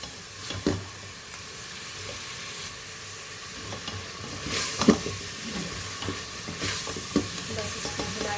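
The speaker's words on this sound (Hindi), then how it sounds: "इसको भूनेंगे, टमाटर को, बिहारी मसाले को और अदरक लहसुन के पेस्ट को।" Tomato, Bihari masala and ginger-garlic paste sizzle and fry in a hot pan while a spoon stirs and scrapes now and then, a soft steady crackle up close.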